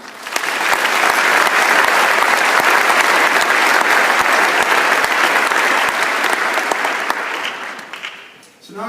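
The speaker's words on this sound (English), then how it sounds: "Please give all of our sponsors a big round of applause." A loud, full round of applause from a large audience at an economic forecast event, dense clapping held steady for several seconds before tapering off near the end.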